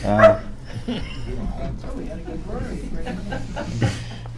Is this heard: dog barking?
yes